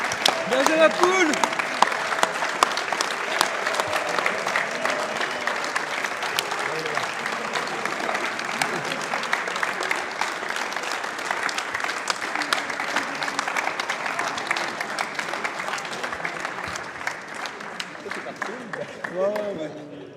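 Steady, moderately loud clapping from an audience honouring the champion team of a Gran Turismo Sport racing tournament, lasting the whole stretch with speech mixed in underneath.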